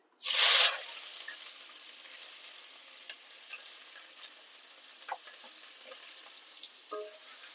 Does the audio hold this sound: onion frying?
yes